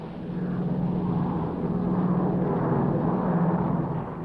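Steady, loud roar of Royal Australian Air Force military aircraft engines during a World War II raid over Bougainville, a continuous droning rumble lasting the whole stretch with no voices.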